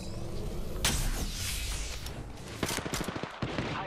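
Gunfire in the video game Apex Legends: dense, loud bursts of automatic fire and sharp shots cracking in quick succession, with a rapid rattling volley near the end.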